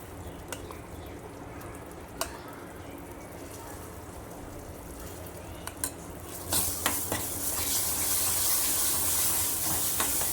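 A pan of semolina sizzles steadily with occasional stirring clicks, then a louder hissing bubble swells as Alphonso mango puree is added and cooks, close and continuous.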